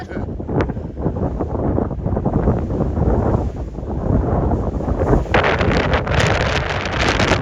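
Strong wind buffets the microphone in a continuous rumbling roar on a mountain trail near Mount Laguna, gusting louder toward the end, with no talk.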